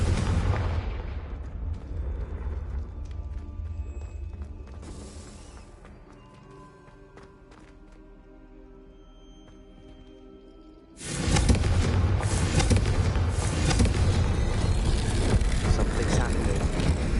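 Confringo blasting spell explosions in the video game Hogwarts Legacy, a loud rumbling burst that fades into a quiet stretch before a second heavy, sustained blast roars in, with a voice casting the spell.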